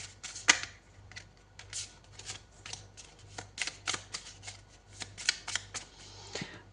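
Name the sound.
shuffling tarot cards to draw one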